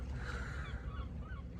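Several goose-like honking calls ring out in a calm morning outdoors, moderately distant over a steady low background rumble, with no one talking.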